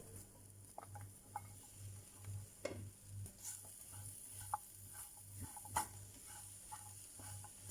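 Cut okra fries and is stirred in a pan over medium flame: a soft, faint sizzle with scattered scraping and tapping of the spoon, no voices.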